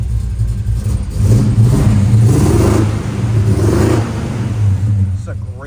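A 1967 Chevrolet Chevelle with a floor shift revs close by, its engine swelling and easing back in two or three throaty surges before settling toward idle.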